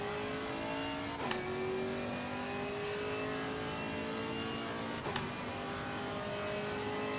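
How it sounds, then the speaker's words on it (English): A Camaro race car engine drones steadily in the Assetto Corsa Competizione racing game at Donington Park, holding a sustained high note with two sharp gear shifts that drop and climb the pitch again, loud and continuous, with no talk. "The engines in the game sound great, but they sound a bit castrated, like they could be louder and more aggressive"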